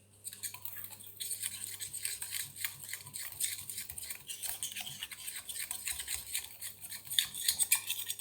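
Homemade dry shampoo powder being stirred in a small bowl, giving a steady run of light scraping and tinkling clinks close by, with no talking.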